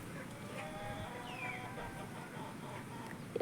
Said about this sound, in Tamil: இங்கிட்ட கோழியெல்லாம் மேய்ஞ்சிக்கிட்டு இருக்கு.